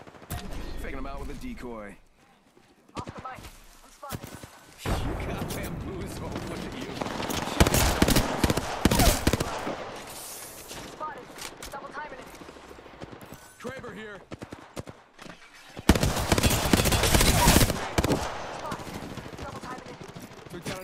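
Bursts of automatic gunfire from an Apex Legends match, including a Hemlok and P2020, crackle in loud volleys between quieter stretches, mixed with game effects and someone talking over the action.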